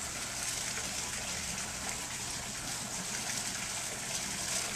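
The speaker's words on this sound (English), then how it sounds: "There's a waterfall again." A backyard waterfall spills into a pond, a constant, even hiss of running water heard from nearby at moderate level, without talk.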